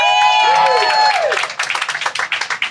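A conference audience gives a short, scattered burst of clapping after a brief tonal sweep, the claps loose and uneven rather than a full ovation.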